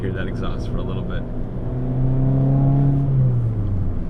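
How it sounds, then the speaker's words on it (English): A Fiat 500 Pop with an aftermarket exhaust, catalytic converter still fitted, drones steadily while driving, its engine tone swelling and gliding downward from inside the cabin after a moment of voices. "I just want to hear that exhaust for a little bit."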